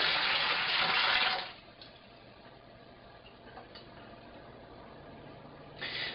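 Cooled sugar water is poured into a fermenter while brewing an oatmeal stout, making a steady rushing splash for over a second that then stops, followed by quiet handling noises and a brief splash near the end.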